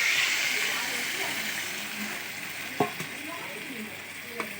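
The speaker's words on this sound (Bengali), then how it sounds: "এবার দেখো জল দিয়ে দিচ্ছি" Water goes into a pan of chicken kosha, a spiced meat curry, frying on the stove. A loud, steady sizzling hiss fills the whole stretch, broken by a couple of sharp utensil clanks.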